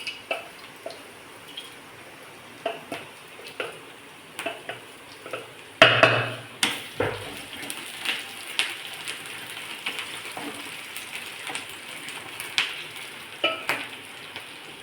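Onion and garlic sauté in a pan with crushed peanuts for kanda poha, a steady sizzling fry broken by regular scraping stirs and a louder clatter near the middle, close and alone.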